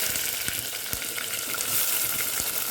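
Chopped onions frying in oil with cinnamon, cloves and other whole spices for a chicken biryani, a steady close sizzle with faint stirring clicks and no talk.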